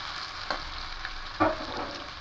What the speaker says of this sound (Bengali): আলুটা হালকা ভাজা ভাজা হয়ে এসছে